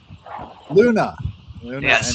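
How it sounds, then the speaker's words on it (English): A dog named as the host's pet gives a couple of short, close yips and barks, mixed in among a person talking. "That's my dog."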